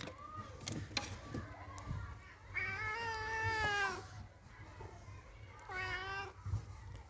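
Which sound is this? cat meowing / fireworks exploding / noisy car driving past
cat meowing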